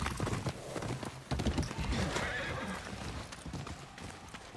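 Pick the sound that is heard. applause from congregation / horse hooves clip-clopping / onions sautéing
horse hooves clip-clopping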